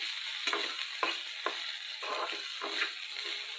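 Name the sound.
beans frying in oil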